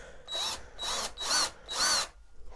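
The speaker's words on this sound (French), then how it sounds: "je vais prendre la visseuse pour percer des trous régulièrement" A cordless drill-driver bores holes in pallet wood in four short, whining bursts separated by brief pauses, close and clear with no talking.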